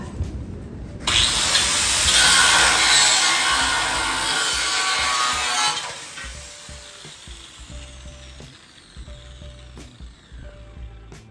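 A handheld cutting tool whizzes through a car's rear frame during prep for air ride and a four-link, a loud harsh metal-cutting burst of about five seconds, then quieter shop noise and faint clatter.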